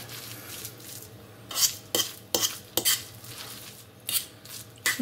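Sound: stirring mayonnaise into smoked mackerel spread

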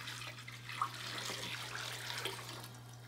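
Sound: hot water poured into a Tupperware container

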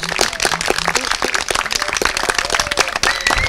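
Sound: audience applause

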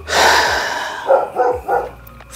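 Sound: neighbour's dog barking

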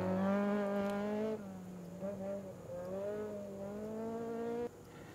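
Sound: rally car passing, Ibiza 2000 GTI

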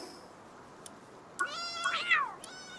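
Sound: cat meowing in the video game Palworld

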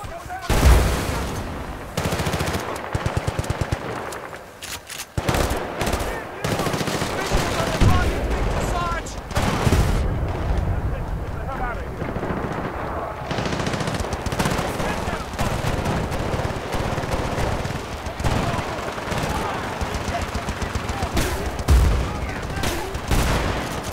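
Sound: gunfire in video game Battlefield Bad Company 2

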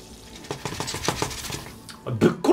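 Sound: frying bacon and eggs in a pan, video game Arctic Eggs

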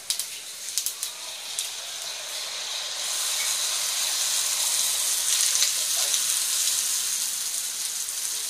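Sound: Bangladeshi jilapi frying in hot oil

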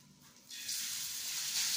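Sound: minced meat sizzling in a preheated pan with ghee

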